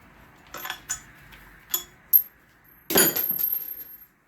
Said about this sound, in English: I was throwing my bolts in there with the fuel injectors